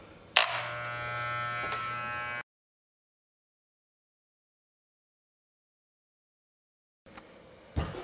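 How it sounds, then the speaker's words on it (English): Electric clippers buzz steadily while trimming a tufted rug, a close, loud motorised hum with a sharp click as they start, then a long stretch of silence before another brief burst of buzzing and a knock. "got the clippers now. We're gonna turn them on. It's about to get loud."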